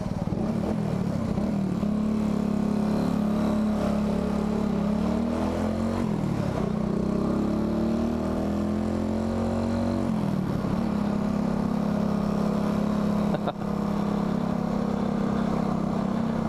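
A small motorcycle filters through London traffic, its engine buzzing loudly and steadily up close, the pitch rising and falling as the rider shifts and revs.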